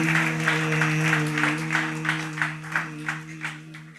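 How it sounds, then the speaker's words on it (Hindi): Congregation in a church clapping in unison for the Lord, a rhythmic beat of roughly two claps per second over a sustained musical drone, moderately loud and nearby. "आइए हम प्रभु के लिए एक अच्छी ताली बजाएंगे।"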